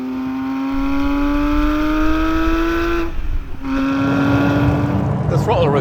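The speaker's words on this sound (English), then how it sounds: "What an engine it is, and what a noise it makes." A Porsche 911 GT3 RS with its 4-litre naturally aspirated engine revs hard, a loud, rising high-pitched wail that breaks for a quick gear change and then climbs again, with a voice over it near the end.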